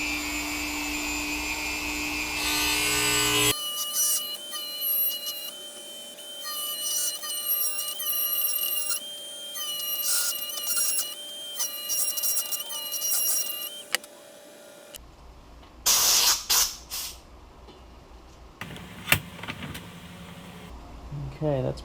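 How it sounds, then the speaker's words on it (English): A Dremel with a carbide bit grinds the outer edge of a bearing in a car throttle body, giving a steady high-pitched whine in long continuous runs, close up, then stopping and restarting in short bursts. "I'm going to carefully grind down this outer perimeter of the bearing with a Dremel tool and the carbide grinding bit"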